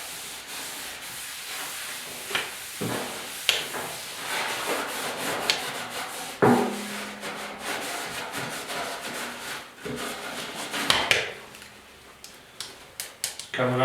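Rubbing factory grease off the rear fenders of a 1956 Ford pickup, a close, steady scrubbing and wiping with occasional knocks and taps against the sheet metal, as someone talks over it.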